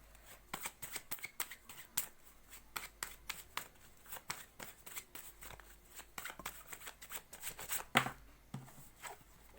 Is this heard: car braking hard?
no